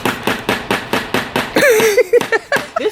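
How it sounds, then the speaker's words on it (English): A child hammers on a kids' building kit, a steady run of sharp, close blows roughly five per second, briefly interrupted by a voice before the strikes resume. "Well, at least you can use a hammer."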